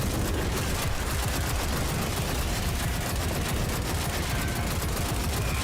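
Dense, continuous automatic gunfire in the video game Destiny 2, a loud unbroken rattle of rapid shots filling the whole stretch with no talk over it.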